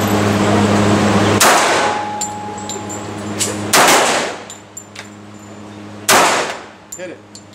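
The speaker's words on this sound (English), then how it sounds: "Let's shoot this 45." Three loud, sharp gunshots from a .45 pistol on an outdoor shooting range, spaced a couple of seconds apart, each followed by a short ringing decay, with faint handling sounds in between.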